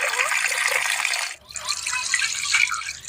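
Olives being washed under running water, a loud steady close rush of water from a tap that breaks off briefly midway and then resumes splashing.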